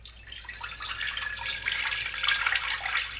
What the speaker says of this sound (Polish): zalewamy to wszystko wodą, wodą o temperaturze pokojowej